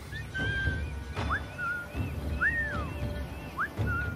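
Short rising and falling whistles from a character in the video game Assassin's Creed IV Black Flag repeat several times at moderate volume, scattered over a steady ambient game background with no speech.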